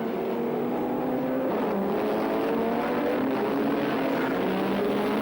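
A 1984 Australian Touring Car Championship race at Sandown: touring car engines, including a 390-horsepower inline six revving to about 8,000 rpm, snarl past on the circuit, their pitches rising and overlapping in a loud, continuous race-track roar.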